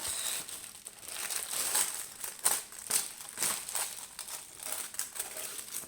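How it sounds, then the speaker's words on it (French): Paper crinkles and rustles continuously at close range, with scattered sharper crackles as it is handled. "On va enlever le papier qui fait du bruit."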